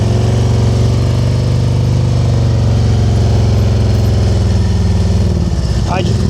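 A motorcycle engine drones loud and close during slow-speed riding practice, its pulsing tone slowly rising in pitch as revs climb, with a brief voice near the end.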